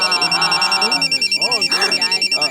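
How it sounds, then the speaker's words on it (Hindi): A phone ringtone of rapid pulsing high beeps repeats steadily while a voice sounds over it. "क्या बार बार रिंगटोन बदलता रहता है?"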